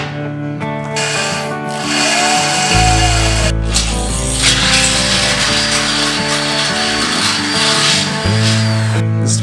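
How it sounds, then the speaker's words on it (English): A power tool grinds a bevel onto a steel detent pin in a garage during a welding table build, a loud continuous tonal whine with shifts in pitch as the tool bears down. "Just put a bevel on there so the pin will slide in and out easier."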